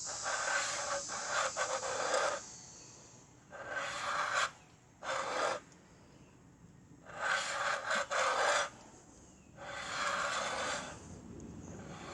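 A ridge reamer cuts the top of a cylinder bore in a 1959 Pontiac 389 V8 engine. Four or five rasping, scraping strokes of a second or two each come in close, with short pauses between them.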